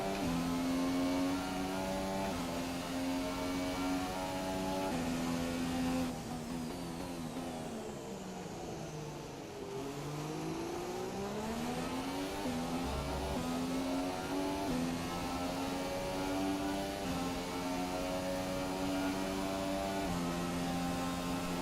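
McLaren Formula 1 car engine on the main straight of the Canadian Grand Prix in the F1 2017 racing game, a loud high-pitched whine rising through the gears with a brief dip between shifts.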